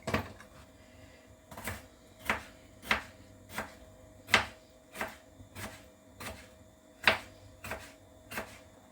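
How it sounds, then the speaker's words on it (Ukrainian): Steady knife chopping of a sweet bell pepper on a cutting board, about a dozen crisp, evenly spaced chops close up with no talking. "я нарізаю солодкий перчик для яскравості нашого Сучевичного супу."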